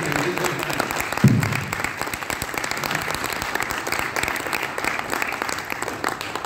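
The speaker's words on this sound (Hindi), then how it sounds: "बजाओ ताली" Sustained applause from a large crowd at an Arya Samaj Vedic bhajan gathering in Hisar, Haryana, dense and even for several seconds.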